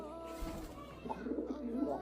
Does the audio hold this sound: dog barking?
no